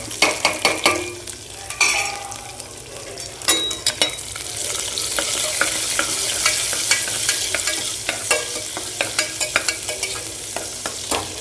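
Onions, curry leaves and dried red chillies frying in hot oil, a bright continuous crackle and sizzle broken by repeated clinks and scrapes of a ladle against the pan, close and without talk.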